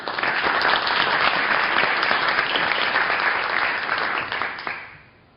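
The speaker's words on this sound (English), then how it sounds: "A nice round of applause for Mohammed." An audience at a talk on media consumption in Iraq applauds a speaker, a steady dense round of clapping from many hands that holds loud for about four seconds, then tapers off and fades out.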